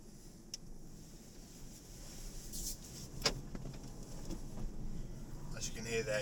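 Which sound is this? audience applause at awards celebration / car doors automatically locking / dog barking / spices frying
car doors automatically locking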